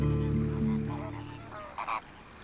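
Flamingos calling, a close, loud series of nasal, goose-like honks that fade down, followed by a couple of brief sharper calls.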